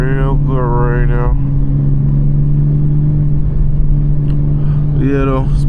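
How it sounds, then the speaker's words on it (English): A car engine runs with a steady, loud hum at night, punctuated by two rising revs at the start and another near the end; a voice talks over it. "My car sounding real good right now."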